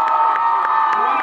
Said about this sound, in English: give Caesar a hand clap